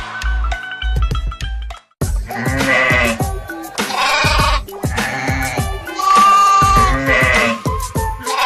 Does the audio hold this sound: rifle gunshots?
no